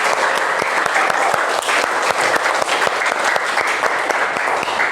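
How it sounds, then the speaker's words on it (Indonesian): Students in a classroom burst into dense, lively applause that holds steady and loud for several seconds, many hands clapping at once. "mari kita tepuk tangan"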